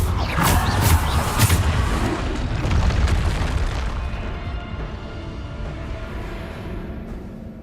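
A Bombarda blasting spell from Hogwarts Legacy erupts in a loud magical explosion, sharp bursts up front giving way to a long decaying rumble and fading debris, with no voices over it.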